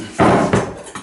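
A kitchen knife is set back down on a counter while cooking oyster mushrooms, giving a loud close clunk followed by a second softer knock and a faint third tap, with no talk.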